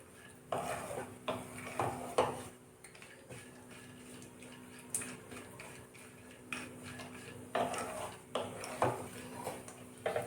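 Almonds and cashews roasting in a dry pan, stirred in bursts of soft clattering and scraping, fairly faint and close, with quiet stretches between the stirs.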